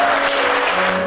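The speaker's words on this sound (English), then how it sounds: "a big round of applause to Andra and Barbara" Applause bursts out from the audience at a philanthropy award gala, honouring award recipients: a dense, steady wash of clapping with a faint tonal hum underneath, brief and without talk.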